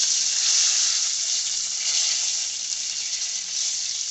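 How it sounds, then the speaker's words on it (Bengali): Whole garam masala sizzles in hot oil in a wok, a loud, close, continuous hiss that stays steady throughout with no voices. "কড়াইতে তেল দিয়ে দিয়েছি তেল গরম হয়ে গেছে এখন আমি দিয়ে দিব গোটা গরম মশলা"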